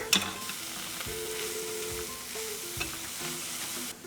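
Zucchini noodles fry in a pan with a constant crackling sizzle while a utensil stirs and scrapes through them several times. The sound is close and fairly soft, and no voices are heard.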